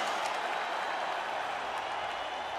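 Steady, dense crowd applause and cheering from a video-game arena in EA Sports UFC 3 after a fight, a broad continuous wash of clapping at moderate level with no clear talk.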